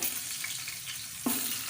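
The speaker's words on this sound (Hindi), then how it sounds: "फ्राई करेंगे चिकन।" Chicken fries in a pan with browned onions, giving a short, steady hiss close by. One utensil knock or scrape stands out near the end. No talking.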